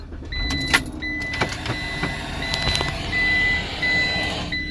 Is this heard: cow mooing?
no